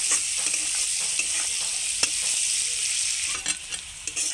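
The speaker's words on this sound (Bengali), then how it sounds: "এবার পেঁয়াজটাকে অল্প ব্রাউন করে ভেজে নেব প্রথমে।" Onions frying to a light brown in a pan for a fish-head and drumstick dish, a steady close sizzle with occasional stirring scrapes and no talk.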